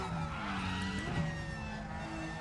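A Porsche GT3 Cup race car in the RaceRoom racing game, running without ABS, locks its brakes, producing a sustained tyre squeal over a steady engine drone.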